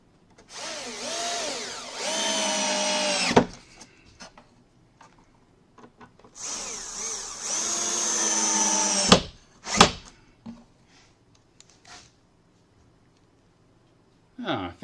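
A power drill drives screws into wood at a woodworking bench: two long, loud whirring runs with rising pitch, each ending abruptly, followed by softer clicks and handling taps.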